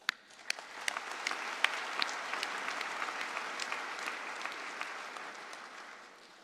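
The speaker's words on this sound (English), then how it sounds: "Let's keep the applause going" A few individual claps swell into sustained, dense audience applause at a college convocation ceremony, holding steady before easing slightly at the end.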